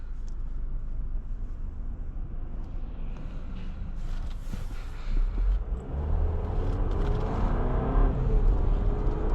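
A 2024 GMC Acadia AT4 accelerates from inside the cabin, a low engine rumble and road noise building noticeably in the second half as revs climb, with a faint whir over steady tire hum.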